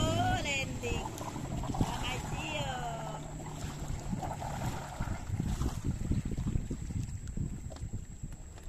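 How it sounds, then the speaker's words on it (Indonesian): A 15-horsepower outboard engine on a boat drones steadily under wind noise and water sounds, with people talking over it. "menggunakan perahu enjin"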